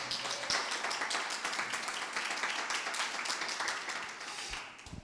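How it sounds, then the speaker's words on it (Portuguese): A church congregation claps steadily in dense, continuous applause that fills the room, with no talk over it. "Aplauda Jesus."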